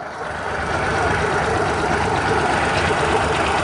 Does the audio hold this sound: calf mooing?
no